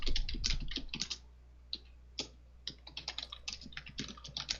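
Fast, irregular clatter of typing on a computer keyboard, close and fairly loud, in bursts of rapid keystrokes with short pauses between them and no talking.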